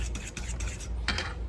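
Eggs being whisked and broken up in a bowl for northern cornbread batter, a steady scraping stir with light utensil clicks against the bowl, close and continuous.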